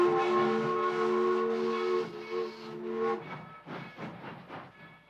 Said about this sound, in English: train arrived in Fayetteville, Arkansas